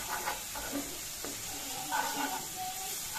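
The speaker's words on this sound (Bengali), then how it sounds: "তারপর হচ্ছে মাছগুলো দিয়ে একটু হালকা কষিয়ে নেব মশলার সাথে" Hilsa fish pieces sizzle in hot oil as they are sautéed with spices, a steady soft frying hiss broken by a few stirring scrapes, close and fairly quiet.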